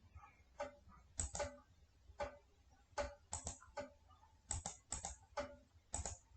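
A name being typed on a computer keyboard: crisp, close key clicks in irregular short clusters, some light and some harder, with brief pauses between.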